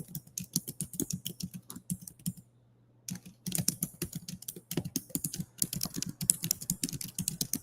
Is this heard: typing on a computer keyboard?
yes